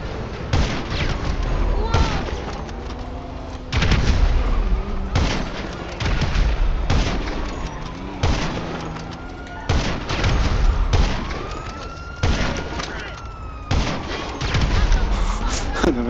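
Bomb explosions boom repeatedly in the GTA video game, loud and close, heavy blasts arriving every second or two amid gunfire-like bursts and rumbling debris.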